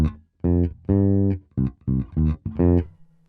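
A five-string bass guitar plays a bassline, a series of punchy, clean notes in a syncopated rhythm, close and alone.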